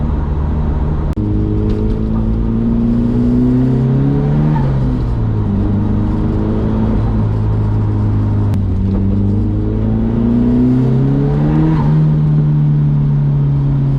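A turbocharged car engine on blow-off valve testing revs repeatedly, its harmonic tone rising and falling in loud close sweeps, with brief venting and chatter between pulls.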